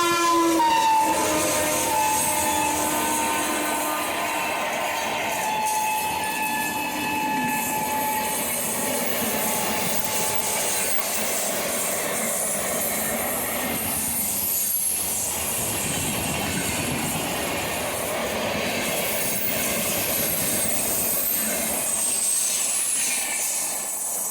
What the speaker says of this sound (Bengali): এখন আমাদেরকে অতিক্রম করে যাবে ট্রেন নাম্বার বারো তিনশো এক হাওড়া থেকে নিউ দিল্লি রাজধানী এক্সপ্রেস